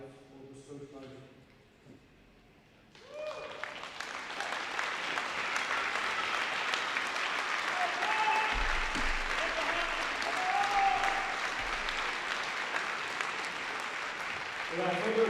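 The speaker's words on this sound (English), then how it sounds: "let's give one more round of applause for Coach Tim Brown" Audience at a high school wrestling senior night in a gym gives a round of applause for a coach: a voice speaks briefly, then loud, steady clapping swells in and holds for over ten seconds.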